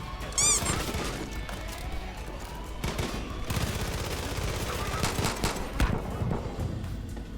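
Rapid bursts of automatic machine gun fire crackle through a busy Far Cry 5 game soundscape, with scattered impacts and crashes layered over steady background noise.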